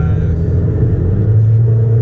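A 2004 Nissan Sentra SE-R Spec V engine hums steadily while driving, its low drone shifting as the gearbox drops from sixth to fifth, heard close from inside the cabin.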